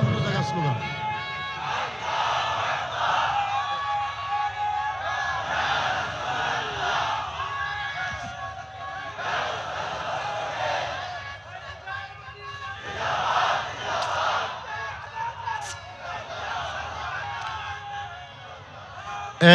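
A large crowd gathered under a pandal at a religious gathering shouts the takbir slogan in unison, the loud massed voices rising in repeated bursts that swell and fade several times.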